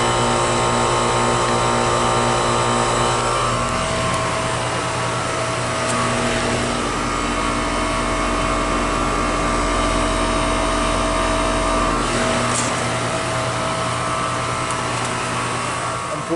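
A 2008 Goodman heat pump outdoor unit running in heat mode on a cold night, a steady loud fan whoosh with a low compressor hum, close and unbroken, no talking.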